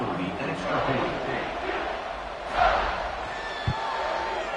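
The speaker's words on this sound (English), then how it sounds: "this crowd is buzzing after that last score" A college football stadium crowd buzzes after a score in an NCAA game involving ECU, a broad steady roar with a swell of cheering and a sharp thud, an announcer talking over it.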